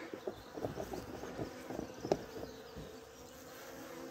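Agitated honeybees buzz from an opened hive, a faint, steady drone with overlapping wingbeat hums and a few soft knocks and rustles nearby, with no voices.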